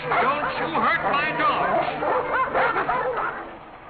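Several dogs bark and yip excitedly in a short, busy burst, close and loud, mixed with people talking.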